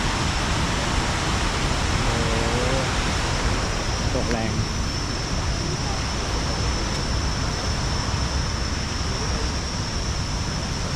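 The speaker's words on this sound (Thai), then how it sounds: "อยู่ตรงนี้ก็จะมอง มองเห็นน้ำตก" Heo Suwat waterfall, running heavy at the start of the rainy season, pours in a constant loud roaring rush, with faint voices briefly audible beneath the water.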